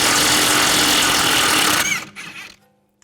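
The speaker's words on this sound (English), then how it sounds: "Now we're going to take this lower strut bolt out" A power tool whirs loudly and steadily on the lower strut bolt of a BMW X3, then winds down and stops, leaving a few faint clinks before silence.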